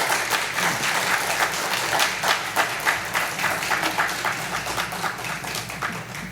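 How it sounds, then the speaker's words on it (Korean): A church congregation claps to welcome a pastor, giving dense, sustained applause from many people. The clapping is loud and steady, with a slight easing toward the end and no talking over it. "김인철 목사님 나오실 때 큰 박수로 환영해 주시기 바랍니다"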